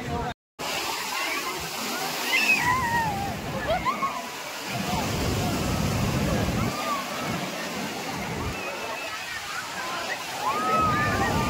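Sea waves at Marina Beach, Chennai, roll in as loud, rhythmic washes of surf with wind in the background.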